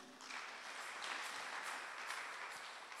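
A church congregation bursts into steady, dense applause that fills the space evenly from start to finish, with no voices rising above the clapping.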